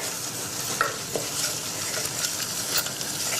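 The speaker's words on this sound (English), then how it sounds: "2 tablespoons of flour to 2 tablespoons of butter. And I'm just going to cook that down a little" Butter and flour roux cooking in a pan, a soft continuous sizzle with light scraping and stirring touches, close and steady, no voices.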